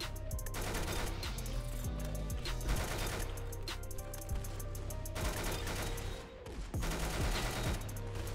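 Rapid automatic gunfire rattles in bursts during a Roblox Arsenal match, with dense fast volleys, short pauses and a reload gap, loud and continuous for most of the stretch.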